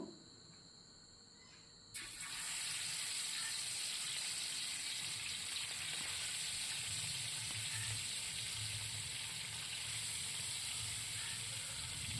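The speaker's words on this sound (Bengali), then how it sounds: "তেল গরম হয়ে গেছে আমি মাছগুলোকে ভেজে নেবো" After a short quiet start, fish begin frying in hot oil with a loud, constant sizzle and crackle that continues throughout.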